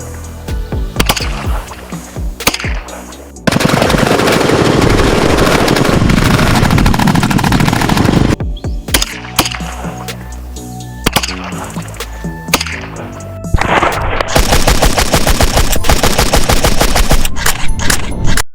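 Loud, sustained bursts of machine gun fire with dense rattling volleys and scattered single shots, recorded during a mock assault on a Trinidad and Tobago Coast Guard training base in 1978, harsh and close.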